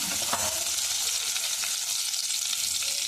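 Cumin and mustard seeds fry in hot oil for paneer kurma. A dense, steady sizzle continues close and unbroken, with a faint stir near the start and no voices.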